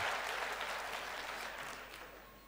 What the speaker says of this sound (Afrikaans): julle kan vir julle self hande klap